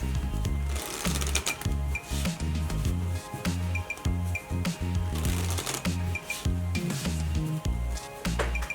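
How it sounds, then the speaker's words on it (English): A deck of playing cards is shuffled during a sleight-of-hand card trick, giving rapid, crisp riffling clicks that run steadily and close up over a low, continuous backing for several seconds. "I will remove the card to a random place in the deck and shuffle it so that the card is definitely lost."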